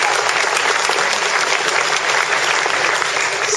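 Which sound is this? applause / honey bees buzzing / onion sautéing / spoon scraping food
applause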